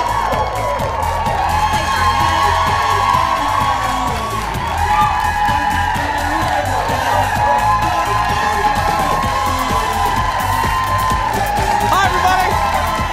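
A Christmas studio audience cheers and whoops, a loud, continuous wall of crowd noise that holds steady throughout.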